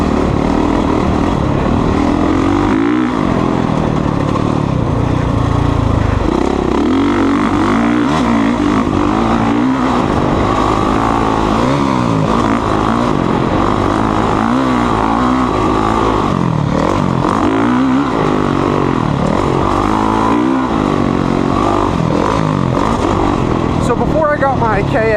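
A Honda CRF450R dirt bike being ridden, its engine droning loud and steady with rising and falling revs, captured close and continuous throughout.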